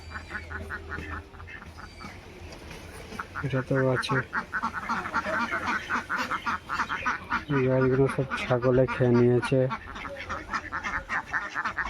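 Ducks quack in a rural village yard in several short, fairly close bursts, mixed with a person talking throughout.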